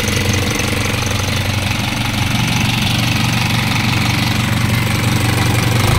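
A 4JG2 or 4HF1 diesel engine in an Isuzu Elf 10ft surplus Japan truck idles steadily and loudly up close, a continuous low rumble with a fast knocking beat and no change in pace throughout.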